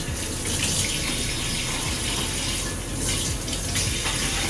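Water runs steadily from a tap while bones are washed for broth, a continuous splashing gush that stays loud and even throughout, with no voices.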